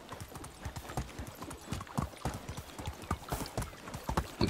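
A horse's hooves clip-clop in a steady, brisk rhythm during riding in the Medieval Dynasty video game, close and clear, with no talking over them.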